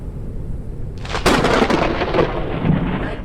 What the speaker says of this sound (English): Lightning strikes the highest targets.